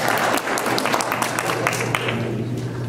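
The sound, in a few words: audience applause at mayoral forum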